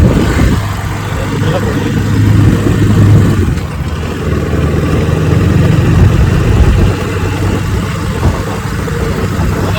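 A motorcycle ridden along a rural road through countryside near a village, its steady mid-pitched engine drone continuing throughout with slight swells, while a voice talks over it.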